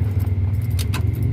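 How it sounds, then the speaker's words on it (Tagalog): A key jingles on its ring as it turns in the ignition of a 1997 Mitsubishi L300 Versa van, giving close metallic rattles and two brighter clicks over a low steady hum. "Dapat i-on natin yung susi nya"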